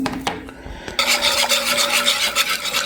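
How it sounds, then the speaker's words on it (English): Flour being whisked into sausage gravy in a pan, a brief knock of the utensil and then a fast, steady rasping scrape of the whisk against the pan, close up and loud, with no voices. "you need to constantly whisk this while you're waiting for it to thicken"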